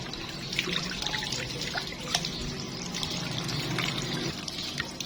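Kitchen tap water runs continuously while dishes are washed, with a steady splashing and trickling and occasional light clinks, close and fairly loud throughout.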